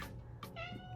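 Pet cat meowing for attention indoors, two or three short, clear meows close by, fairly faint, with no talking.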